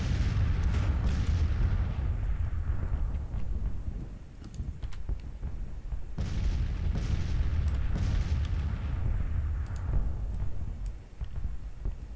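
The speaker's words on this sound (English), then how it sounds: "Look at all that artillery exploding over his head." Artillery shells bursting over enemy troops in Grand Tactician: The Civil War, a dense, continuous rolling roar of distant booms swelling in two long waves, loud and without speech.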